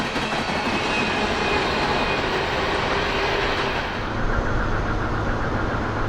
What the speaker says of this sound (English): we were treated to a monster coal train